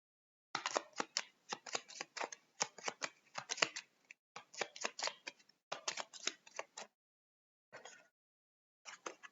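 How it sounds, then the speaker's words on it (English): Cards from a discard pile being shuffled during a solo game of the Tramways board game, a close, quiet run of crisp riffling bursts in quick clusters with short pauses and a final few brief riffles, with no talking. "we just shuffle our discard pile."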